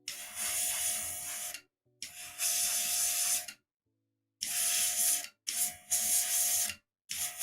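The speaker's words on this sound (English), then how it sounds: "Now I can spray at a proper distance." Bursts of aerosol spray paint hiss onto miniatures in short, loud blasts of one to two seconds each, separated by brief silences, with no talking.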